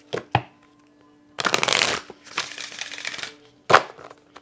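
A deck of angel cards is shuffled up close in several quick rustling, riffling bursts separated by brief pauses.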